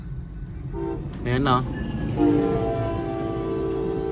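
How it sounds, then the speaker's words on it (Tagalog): A train passes close by at a crossing and sounds a loud horn in short blasts, with rumbling rail noise continuing underneath. People talk over it. "Natrap pa tayo ng tren dito. Ayan, may tren."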